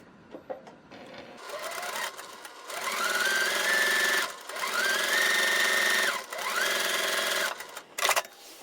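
Domestic sewing machine stitching a quarter-inch quilting seam in several steady runs of fast, even whirring and needle clatter, near and clear, with short pauses and handling clicks between runs.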